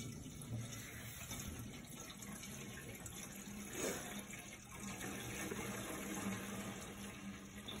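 Gasoline pours into a generator's fuel tank from a California-style spill-proof gas can. The liquid makes a steady, continuous trickle that stays fairly quiet throughout, with a slight surge partway through and no voices.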